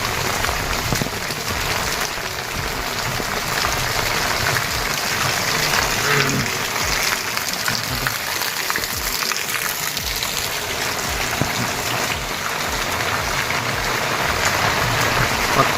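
Steady rain falls outdoors, a dense even hiss of drops pattering on surfaces that continues unbroken throughout, with no voices over it.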